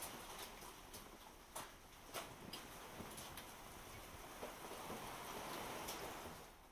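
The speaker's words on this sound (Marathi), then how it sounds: "मुसळधार गारांचा पाऊस बरसला" Heavy unseasonal rain with hailstones during a windy storm: a steady, dense hiss of downpour dotted with sharp, irregular ticks and knocks from hail striking surfaces, continuous and fairly distant, with no voices.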